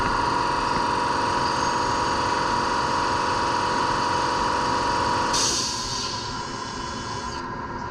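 A power drill bores a hole into the side of a surfboard, a steady whining motor hum that shifts pitch and drops in level partway through as the bit changes load, close and alone.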